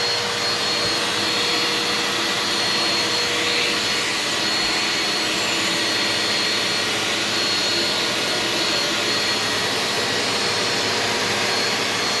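A Eureka Power Speed upright vacuum cleaner runs steadily and loudly at close range, a constant broadband motor whine with airflow hiss that holds unbroken throughout.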